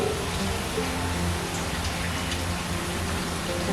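Pitha cakes made with biuli (urad) dal deep-frying in oil over a medium flame, giving a steady, dense, even sizzle and bubbling that holds close and fairly loud throughout, with no voices.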